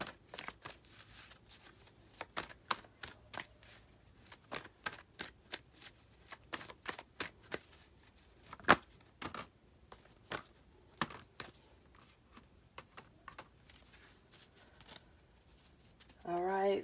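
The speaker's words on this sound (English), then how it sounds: "remember when I did the shuffling and laid the cards out in the beginning" Tarot cards are shuffled by hand, giving a long run of crisp riffling snaps and flicks at irregular intervals, close and fairly quiet, with a brief burst of another sound at the very end.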